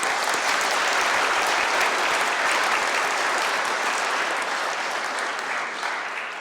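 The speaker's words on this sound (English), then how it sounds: "I think he deserves a round of applause." Sustained applause from a lecture audience at an evening dinner talk, dense and steady clapping filling the room for about six seconds before tapering slightly at the end.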